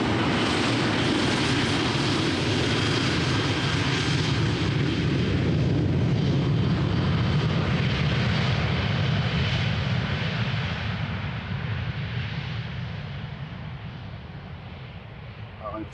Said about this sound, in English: It's going to be an empty airplane, so expect a quick rotation.